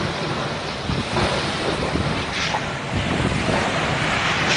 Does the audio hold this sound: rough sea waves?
yes